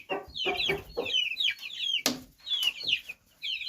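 Month-old chicks and grown chickens cluck and chirp at close range in irregular bursts, with a louder squawk partway through and short pauses between calls.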